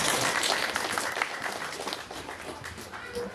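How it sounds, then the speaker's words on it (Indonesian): Audience applause for a Muhammadiyah youth group at a religious study gathering, a continuous dense crowd clapping that holds steady and eases slightly toward the end. "maka tepuk tangan untuk pemuda Muhammadiyah satu."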